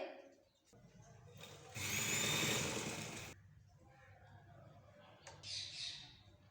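A sewing machine runs straight stitching along a shawl in one burst of about a second and a half, standing out from an otherwise quiet room with faint rustling.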